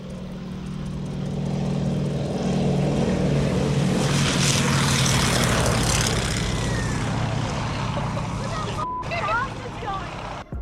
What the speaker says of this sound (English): We wanted to literally follow this plane taking off